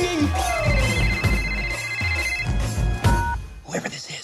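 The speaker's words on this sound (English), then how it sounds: "It's ringing!" A telephone bell rings in repeated bursts during a red carpet interview, loud and close, with people talking over it before it cuts off.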